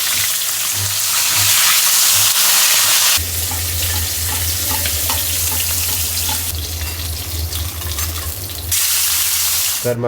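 Fish fries in a pan with a loud, steady sizzle close by, its intensity shifting now and then as the pieces cook.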